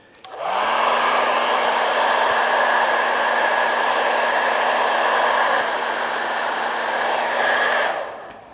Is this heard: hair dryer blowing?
yes